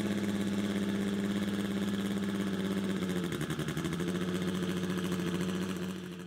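A turbocharged K24-swapped Ferrari engine runs at a steady, loud, close-up idle with a deep even drone and a brief dip in pitch midway, alone without voices.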